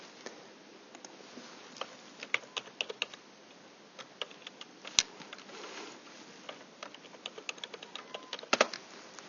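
Password keys tapped on a computer keyboard, a quiet, uneven run of individual clicks with short pauses and a few sharper strokes, with no voices.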